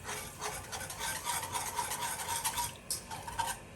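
A sauce with sesame oil is stirred quickly in a hot pan over high heat, giving a continuous soft scraping and rubbing texture with a faint sizzle underneath.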